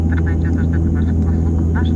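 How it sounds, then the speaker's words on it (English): Steady droning turboprop engines of a Soviet-built Motor-Sich Antonov 24 airliner taxiing to its stand in Ukraine, a loud continuous hum and rumble heard from inside the cabin. "Again, we have a fairly long taxi to our stand."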